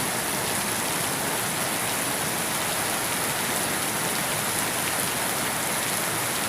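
Morning rain pours down steadily in a rural Thai setting, a dense, even hiss of drops on surfaces that stays loud and constant throughout with no voices.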